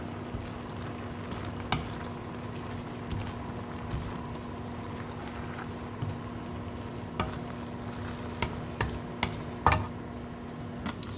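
Canton noodles are stirred and mixed in a pan over a steady sizzle, with scattered sharp clinks and scrapes of a utensil against the pan, loudest in the second half.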